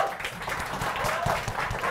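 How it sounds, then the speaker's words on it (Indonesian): An audience at a comedy show applauds, with dense clapping filling the whole moment and voices in the crowd heard underneath. "tepuk tangan"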